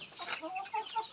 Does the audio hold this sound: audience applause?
no